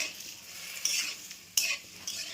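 Chopped tomatoes hit hot oil with chili and bay leaf, giving a bright sizzle with two sharp bursts as the pieces land and a spoon stirs the pan, close and fairly loud.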